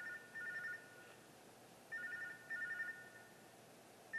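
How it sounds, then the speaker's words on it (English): A telephone rings in the horror video game Tubbyland Archives, with repeated electronic trilling bursts separated by pauses, faint and alone against a low hum. "Oh, we got a phone call."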